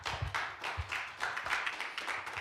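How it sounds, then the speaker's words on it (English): Applause from the audience at a parent town hall: a thin, uneven patter of clapping hands that swells in short bursts and keeps going steadily for a couple of seconds. "let's give Dr. Wilson Phillips a huge round of applause"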